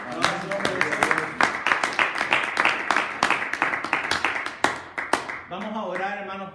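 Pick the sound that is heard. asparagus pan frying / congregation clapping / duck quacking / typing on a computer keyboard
congregation clapping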